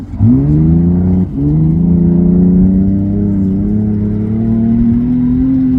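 A rally car geared for speedway rather than rally revs hard at a khanacross event, a loud, close, sustained engine note that dips briefly and then climbs steadily.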